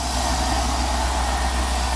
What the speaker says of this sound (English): You can hear my piston slap when the engine warms up.